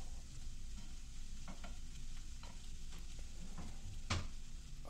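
Food cooks in a pan while a utensil stirs it, giving faint scraping strokes at an irregular pace over a quiet, steady sizzle and low background hum.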